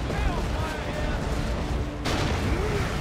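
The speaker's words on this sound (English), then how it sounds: "Guardsmen going to start getting hit by grenades" Grenades burst among Imperial Guardsmen in a Dawn of War II: Retribution battle, giving a dense, continuous din of explosions and gunfire, with a voice faintly present.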